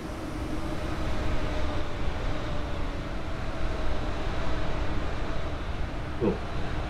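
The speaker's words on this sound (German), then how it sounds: "Ah, da kommt die S-Bahn." An S-Bahn commuter train arrives in Train Sim World 4 on a snowy Bavarian line near Augsburg and Munich, a steady mid-level rumble with a faint whine, plus a brief sharp knock near the end.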